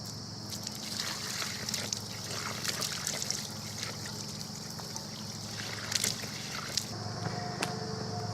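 A primed pump drawing pond water through a hose: a soft, steady mechanical hum with gentle trickling and sloshing water over it, faint and continuous, no voices.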